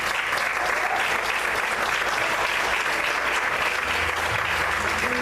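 A church congregation claps for the Lord during an evening Portuguese worship service, a loud, sustained wash of applause filling the room, with faint voices mixed beneath it.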